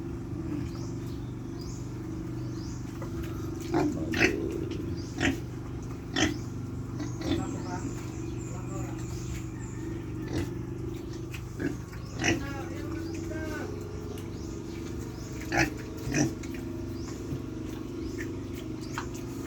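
Large farm pigs bought from a neighbouring pig raiser grunt repeatedly in short, irregular snorts close by, over a steady low hum of background noise.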